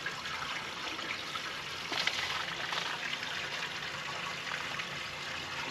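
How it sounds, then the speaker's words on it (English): Water rushing steadily out of a 1960 John Deere 1010 backhoe radiator during a flush, a constant hissing splash with no talk. "let's see if we can flush this radiator."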